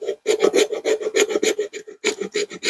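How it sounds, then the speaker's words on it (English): The spine of a Worktuffgear Carnivore knife scrapes wood into fine shavings, a quick rhythmic series of close rasping strokes with a brief pause partway through. "you can easily flip this knife around, do some scraping with it, no problem"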